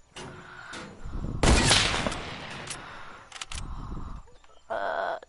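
Gunshots in rapid bursts, a dense loud volley at the center and shorter sharp cracks around it, with clucking fowl-like sounds and lulls between.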